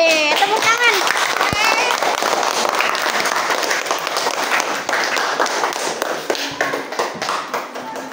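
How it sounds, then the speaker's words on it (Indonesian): A small audience claps after a girl's storytelling performance, a dense patter of hand claps that runs steadily for several seconds with a voice heard briefly at the start. "Yeay, tepuk tangan."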